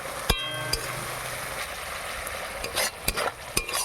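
Vegetarian jackfruit masala frying in a pan on a gas stove, with a steady sizzle broken by sharp clinks and scrapes of a spoon stirring against the pan.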